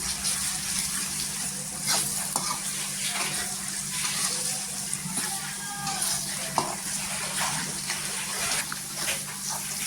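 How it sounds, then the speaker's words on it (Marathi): Agri masala, coriander powder and turmeric sauté in oil for pav bhaji, a continuous close sizzle broken by occasional spatula scrapes and clicks. "छान असे मसाले आहे ना तेलावर परतून घ्यायचे."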